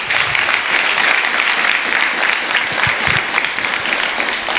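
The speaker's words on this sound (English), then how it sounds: "Let us have a good clap for all those ones who have talked so far." An audience at a Kiambu National Polytechnic election event claps together in a dense, continuous burst of applause, fairly loud and sustained for several seconds.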